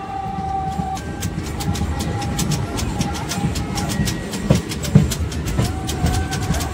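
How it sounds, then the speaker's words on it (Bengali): A memo train on the Naihati to Berhampore line pulls into Moragachha station with a steady loud rumble, rhythmic clickety-clack of wheels over rail joints and a few sharper metallic knocks. "এখন আমাদের ট্রেন ঢুকলো মোড়াগাছা।"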